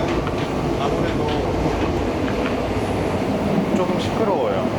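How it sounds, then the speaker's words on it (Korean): Steady rumbling running noise inside an aging Mugunghwa passenger train in Korea, a continuous loud rattle and rumble with faint clatter throughout, louder and rougher than a KTX cabin. "KTX에 비해서 시설도 노후되어 있고 진짜 기차 소리가 납니다."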